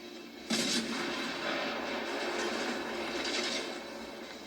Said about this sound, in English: Boom, boom, boom, with all the 4 guns.